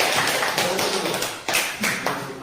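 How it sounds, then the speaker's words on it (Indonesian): Clapping for a group of participants in a classroom teaching session, a short burst of several people's hands clapping unevenly, fairly close and loud, with a few stronger claps standing out. "tepuk tangan untuk kelompok 2"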